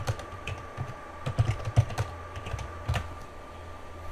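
Someone types a new root password on a computer keyboard, a short burst of close, irregular key clicks over a faint steady hum, with no speech.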